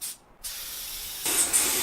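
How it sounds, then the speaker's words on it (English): Spray finish hisses from a can onto a wooden keepsake box made from old floorboards, a steady close spray that pauses briefly and resumes more loudly. "And just spraying it up now."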